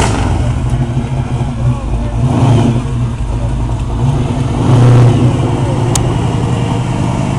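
Ford Mustang at a car show, its engine rumbling and revving in low surges that swell twice, close and loud, with people talking nearby.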